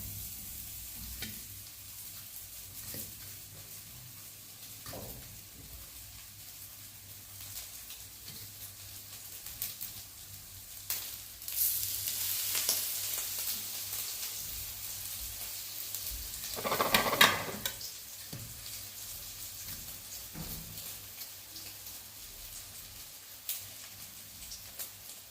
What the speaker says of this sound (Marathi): ते आपण हे रवा, तिखट आणि मिठाच्या ह्या मिश्रणामध्ये थोडंसं त्याला हे करून घ्यायचं आहे. आणि तर आपण त्याला फ्राय पॅनवर टाकायचं आहे.